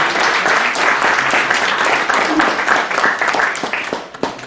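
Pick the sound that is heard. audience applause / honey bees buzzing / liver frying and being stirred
audience applause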